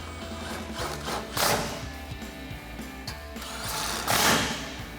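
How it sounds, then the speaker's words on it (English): An impact wrench drives 10mm bolts on an MBRP exhaust hanger for a Ford F-150 EcoBoost, with two short, loud buzzing bursts set among nearby clanks and rustling in a garage. "Grab our impact and socket and tighten those down."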